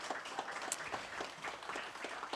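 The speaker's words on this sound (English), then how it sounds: "can I ask folks to give them a round of applause?" An audience at a conference on nuclear weapons applauds the event's staff with steady, soft clapping that sounds moderately distant.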